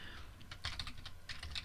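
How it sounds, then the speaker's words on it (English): Keys clattering on a computer keyboard in short irregular bursts of rapid clicks, close and fairly quiet, with no voices. "Was typing on the wrong computer."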